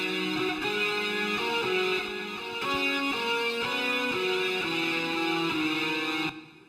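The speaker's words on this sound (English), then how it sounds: "I could pick a lead guitar" A sung melody rendered by Ujam software as a lead guitar line: sustained, slightly distorted notes stepping up and down in a smooth phrase, clear and upfront, before cutting off abruptly at the end.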